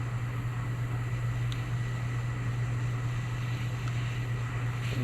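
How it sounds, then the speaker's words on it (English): A handheld torch flame heats a metal rod while making a catfish sinker slide. It gives a steady, even roaring hiss with a low hum beneath, unbroken for the whole stretch and without any talking. "So I'm gonna get it a little bit warmer with a torch."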